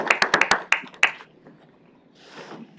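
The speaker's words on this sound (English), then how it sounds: "If we give a round of applause to them for all the work that they've done." A round of applause at a county board of supervisors meeting: several sharp, close hand claps in a brief quick burst, then trailing off into quiet room noise.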